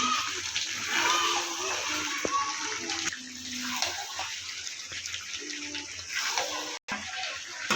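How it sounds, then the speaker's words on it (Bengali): Water pours steadily into a pan of browned chicken curry, a continuous close splashing rush that carries on throughout without a break. "ভালো করে কষিয়ে নেওয়ার পর এর মধ্যে জল অ্যাড করে দিচ্ছি।"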